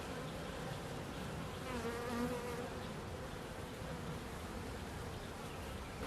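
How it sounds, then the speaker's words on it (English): Honey bees buzz in a dense, continuous drone around an opened beehive with a super added, a steady swarm hum close by and without speech. "Lots of bees with pollen on their legs."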